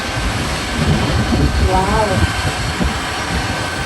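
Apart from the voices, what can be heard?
aeroplane flying overhead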